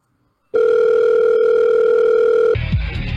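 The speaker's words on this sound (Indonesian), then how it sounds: "Amanda menelpon Dipta kembali, tetapi tidak kunjung diangkat" After a moment of silence, an outgoing phone call rings out unanswered. A loud, steady electronic tone holds for about two seconds, then shifts to a different buzzing tone.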